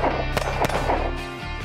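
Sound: pistol shots with Timney Alpha trigger on M&P

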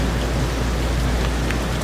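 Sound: heavy rain in Mecca

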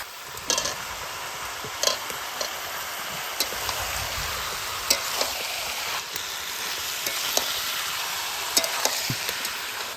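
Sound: stirring chicken curry with chopped tomato in pan

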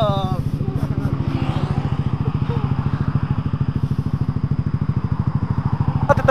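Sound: Honda Vario motorcycle engine while riding

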